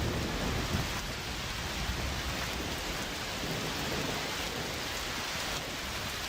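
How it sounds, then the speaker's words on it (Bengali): Heavy cartoon rain pours steadily as a dense, constant wash with a rumble of thunder beneath it, loud and unbroken throughout, with no voices. "হায় সৃষ্টিকর্তা, এ কেমন বৃষ্টি শুরু হলো!"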